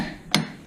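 A torque wrench gives a single sharp click as it reaches 44 pounds while tightening a tie rod on a car, one brief close metallic snap against a quiet background.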